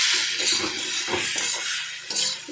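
Potatoes fry in a pan with a steady, loud hiss of hot oil, broken by a few clattering stirs of a utensil against the pan.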